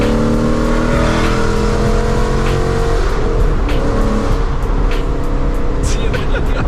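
Loud, raspy exhaust roar from a rebuilt second-generation Ford Mustang, a steady dense rumble filling the whole stretch with engine revs rising and a voice briefly audible underneath.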